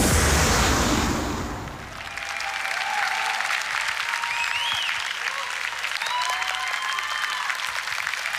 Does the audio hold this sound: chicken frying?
no